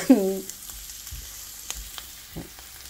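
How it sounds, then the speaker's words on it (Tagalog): Chili and ginger sautéing in a pan for a fish dish, a quiet sizzle with a brief sharp hiss at the start followed by faint scattered stirring scrapes. "simulan na natin ang ating paggigisa"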